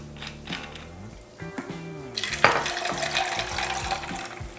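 Soda water poured into a cocktail glass over ice, starting with clinks and small knocks before a fizzing, splashing pour that rises and fills the glass, close to the listener, with no talk.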